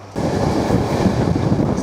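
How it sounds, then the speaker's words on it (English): Interior rumble of a passenger train travelling through Bulgaria toward the capital, a steady, loud low roar with faint rhythmic wheel clatter and no voices. "So this is the train that's going to the capital."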